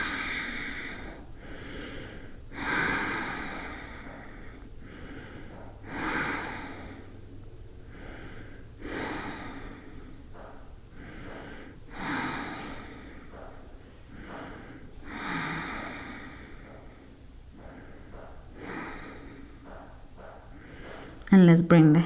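Slow, deep breaths during a calming yoga pose, audible inhales and exhales repeating every few seconds, soft and close in a quiet room.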